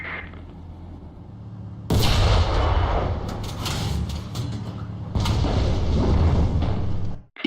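Heavy tank cannon fire in War Thunder, aimed at an enemy tank's engine: two loud, booming broadband blasts, the first near two seconds and the second near five, each followed by a long rumbling decay over low mechanical engine noise.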